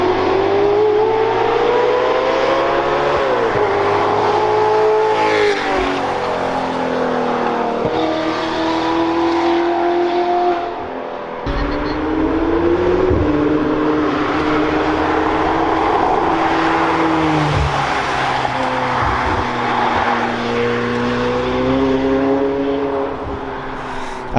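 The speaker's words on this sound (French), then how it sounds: "Ah mais attendez, c'était une 765 LT en fait je crois." A McLaren 765LT supercar accelerates hard up a mountain road, engine note climbing and shifting through gears, loud and close as it passes, then other engines rev on in the distance.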